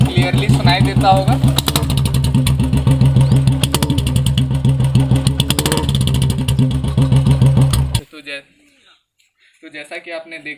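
Royal Enfield motorcycle with a short bottle silencer on an empty bend pipe, idling with a heavy, thumping exhaust beat that is loud and close. The engine stops suddenly, followed by a few faint sounds.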